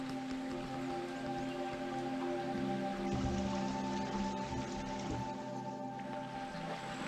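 Steady rain falls in a narrow lane in Konkan, near Chiplun in Ratnagiri, a continuous even patter over low background hum with no talking, holding at a moderate level throughout.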